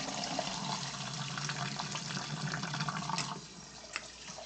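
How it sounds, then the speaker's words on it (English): Rice being washed under a running kitchen tap, a steady quiet hiss of flowing water with light splashing and a few soft clinks, fairly distant and without talking. "So I'm gonna wash this rice"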